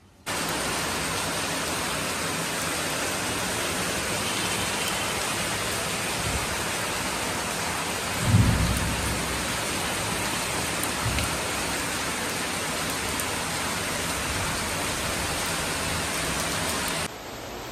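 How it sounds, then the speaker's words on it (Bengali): Heavy monsoon rain roars outside in a steady, dense downpour, with a brief low rumble partway through. "বাইরে হচ্ছে মুষলধারে বৃষ্টি"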